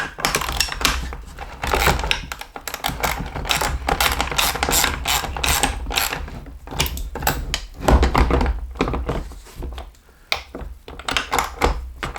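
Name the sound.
ratchet tightening carriage bolts on a MODbox utility cart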